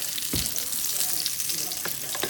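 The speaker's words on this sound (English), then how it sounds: "Put it in a hot pan of medium hot oil, and I'm pan frying them slowly" Breaded cod fillets sizzle steadily in a pan of medium-hot oil, a dense continuous crackle with a couple of sharper pops and spits.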